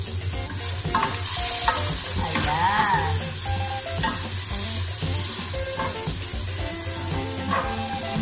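Chicken gizzards and hearts browning in hot oil for adobo, with a steady, close sizzle and occasional scraping stirs throughout, no voices.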